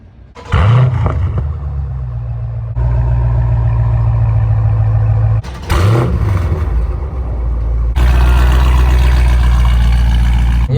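Dodge Challenger Scat Pack 392 with deleted catalytic converters, heard close as a loud, deep, lumpy idle broken by three sharp throttle blips that bark and settle back into the rumble.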